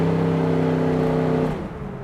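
1969 Chevrolet Camaro engine pulling hard on the road, a loud sustained harmonic drone that cuts off abruptly near the end, as at a gear change or lift off the throttle.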